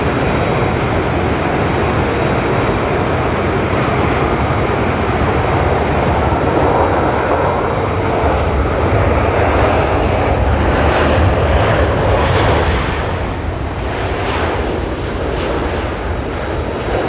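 Air New Zealand flight NZ146 from Brisbane rumbles past at Auckland Airport, a loud, continuous broadband engine roar that stays steady and close throughout without any talking.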